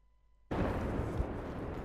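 After a faint hum, a sudden loud tank cannon blast and explosion erupts in Battlefield 4, a heavy broadband boom that rumbles on densely for over a second.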